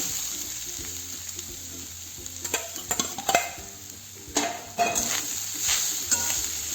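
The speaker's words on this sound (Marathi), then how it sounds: "आणि आता यामध्ये आपण हा नारळाचा खीस जो आहे तो टाकूया" Grated coconut stirred into hot ghee in a pan: a soft sizzle with several scraping, clinking strokes of the spoon against the pan, close and fairly quiet, no talking.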